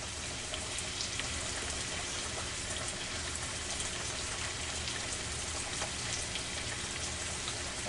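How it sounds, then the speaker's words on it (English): A pot of pasta water boils steadily, a dense, even hiss of bubbling that stays constant and moderately quiet throughout. "I wonder how our pasta's doing. She back to boiling."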